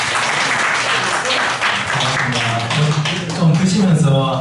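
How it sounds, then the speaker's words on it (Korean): An audience at a lecture during a summer retreat at a rural farm experience school claps continuously, a dense patter of hands under a speaking voice. "박수로 맞아주시기 바랍니다."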